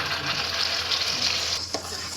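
Tomato gravy goes into a pan of ginger and chilli frying in hot oil, giving a loud close sizzle that keeps up steadily, with a brief stir or clatter near the end and no one talking.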